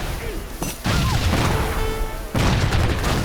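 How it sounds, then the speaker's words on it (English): Gatling guns fire in the Age of Empires 3 video game amid a loud, dense battle mix of booms and crashes, with sustained heavy bursts lasting the whole stretch. "Oh, Gatling guns."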